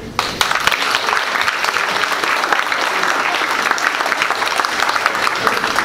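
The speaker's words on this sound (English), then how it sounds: "please join me once again in applauding all of our new NHS members." Loud, sustained applause from an audience at a National Honor Society induction ceremony, a steady wash of many hands clapping continuously.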